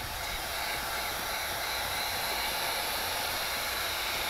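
A heat gun wrapped in a towel, used while tinting the windows of a 2007 Acura TL, gives a steady, close, unbroken airy blowing roar with no pauses throughout.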